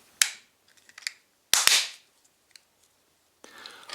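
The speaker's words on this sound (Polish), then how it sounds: "Zamykamy obudowę." The plastic housing of a Toyota car key fob is pressed shut, giving three sharp, close snapping clicks with near silence and a few tiny taps between them.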